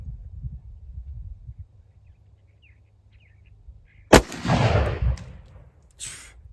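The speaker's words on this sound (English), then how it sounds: "We're going to shoot at the card on the left, and we're at 25 yards?" Single shot from a Remington New Model Army black powder revolver loaded with raw cotton, fired at a card 25 yards away: one sharp loud crack after a quiet stretch of faint murmuring, followed by a rolling outdoor echo.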